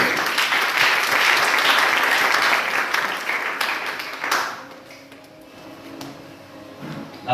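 A church congregation claps and cheers for the Lord during a sermon, a loud sustained burst of applause that tapers off after about four seconds into quieter room sound.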